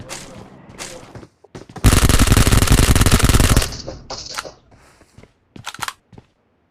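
Gunfire in the PUBG Mobile video game: a dense, loud burst of rapid automatic shots lasting nearly two seconds, framed by scattered sharper single shots and clicks before and after.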